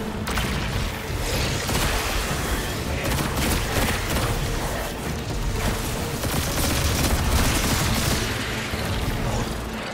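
Heavy video-game gunfire in Destiny 2: The Final Shape, with dense, overlapping bursts of shots and booms rattling on without pause, loud and close throughout.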